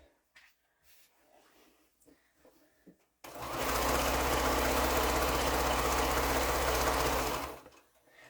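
A sewing machine stitches quilt fabric in one steady, loud run of several seconds, starting abruptly and stopping after quiet handling noises.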